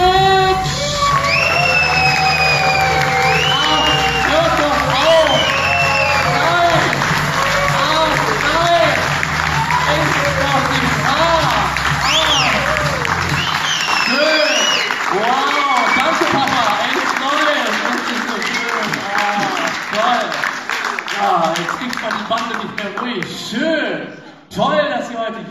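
A theater crowd at a comedy show applauds and cheers loudly and steadily for the host, with shouts and whistles through a dense wash of clapping that thins toward the end.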